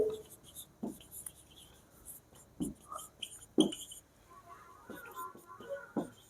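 A teacher writes on a classroom board, making scattered short scratchy strokes and taps, faint and irregular, with quiet murmuring voices in the room.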